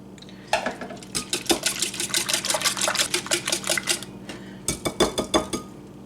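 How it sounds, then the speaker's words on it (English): Three eggs beaten with milk in a bowl for a Pennsylvania Dutch custard pie give rapid, rhythmic clinking and tapping, close and fairly loud, in quick bursts with a short pause before resuming. "So the first thing we're going to do is take our 3 eggs and beat them good."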